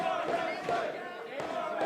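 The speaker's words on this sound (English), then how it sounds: "Crowd reminding you where you are." A wrestling crowd at an indie bar-wrestling six-man tag match chants steadily, a dense, sustained roar of many voices with rhythmic swells, close and fairly loud throughout.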